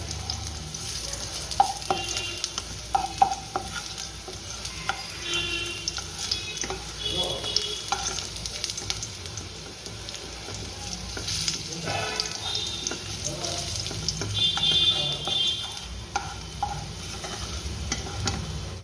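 Garlic frying in a pan of mustard-poppy paste, a steady close sizzle with scraping stir strokes and occasional clatter, no talking over it.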